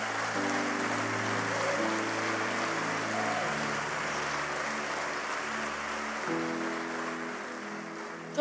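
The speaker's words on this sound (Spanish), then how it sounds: "Dele un aplauso al Señor" A church congregation applauds in a sustained, even wash of clapping that fills the room for several seconds, while low held keyboard or organ tones sound underneath.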